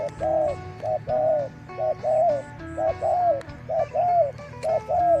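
A spotted dove coos in a steady repeating pattern, five or six soft hooting phrases evenly spaced, close and clear against a quiet background.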